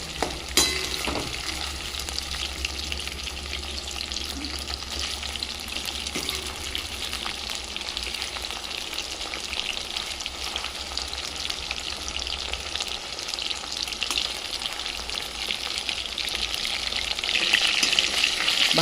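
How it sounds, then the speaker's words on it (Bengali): Chicken pieces on the bone fry in mustard oil for garlic chicken, a loud, dense, continuous sizzle and crackle close up, with occasional stirring clinks and no talking. "এইভাবে সবগুলো ভেজে নেব, তারপরে রান্নায় যাব।"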